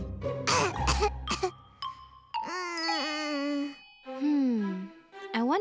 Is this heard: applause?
no